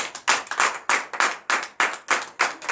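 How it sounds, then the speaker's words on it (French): A church congregation at a Friday night deliverance service in Comè, Benin, claps loudly in unison, sharp beats landing in a steady, quick rhythm with slight flams as hands fall just out of step. "Je vous demande d'applaudir très fort."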